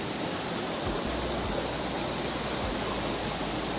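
Stream water running over black rock, a constant broadband rush with no pauses, fairly close and steady, with no voices over it.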